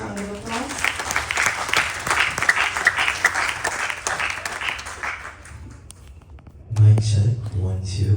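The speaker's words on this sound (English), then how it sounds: "Please give him a huge round of applause." Audience applause at a Ganesh Chaturthi celebration, a dense wash of clapping lasting several seconds that fades, followed by a loud thump and a voice.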